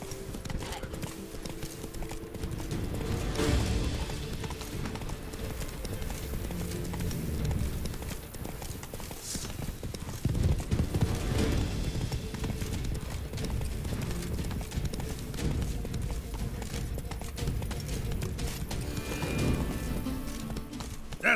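Hooves of the horse Roach clip-clopping in a steady rhythmic trot through Toussaint in The Witcher 3, with faint birdsong behind and soft voice murmurs at times.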